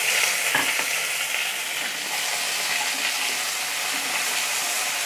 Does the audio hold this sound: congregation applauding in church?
no